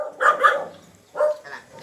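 A dog barks at a house gate in a barangay neighborhood, two quick close barks followed after a pause by two more, loud and alone without talk.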